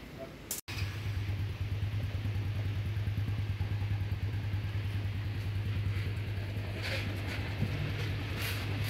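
A Honda-style LC V8 motorcycle engine, freshly fitted with a Tobaki super clutch and running 15W-50 oil, catches after a sharp click and settles into a steady, loud, close idle with an even pulsing throb.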